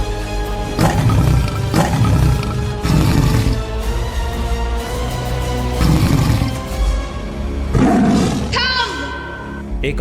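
A tiger roars repeatedly in loud, rough bursts at an uneven rhythm, with a voice talking over parts of it.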